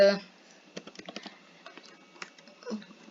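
Computer keyboard typing comes in short, light bursts of clicks at close range, quiet and uneven in rhythm, with a brief voice at the very start.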